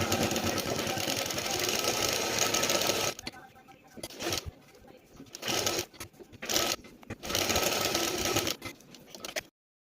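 A sewing machine runs in steady bursts while stitching the neckline of a simple kurti, starting with a long continuous run and then breaking into shorter starts and stops, close and clear.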